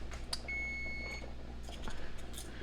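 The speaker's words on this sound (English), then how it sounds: "my timer is about to go off for the eggs" A kitchen timer set for boiling eggs gives a short high electronic beep tone against a steady low kitchen hum, faint and fairly close, with brief clatter around it.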